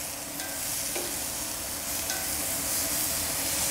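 Pork tenderloin sizzles steadily on a hot plancha set on a kettle grill, a continuous close hiss of searing meat with a couple of faint clinks and no talk.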